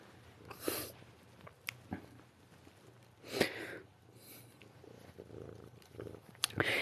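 Purring of a kitten in the video game Johannes Cabal the Detective, a soft low rumble running under the clip with a few brief louder bursts and faint background noise.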